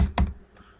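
Fingers tap out a web address on a computer keyboard, two or three quick close clicks with a little low thud, brief and fairly quiet, with no voice over them.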